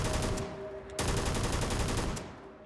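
Full automatic gunfire in the Starfield video game: two sustained bursts of rapid, evenly spaced shots, loud and close, broken by a brief pause between them, with no talking.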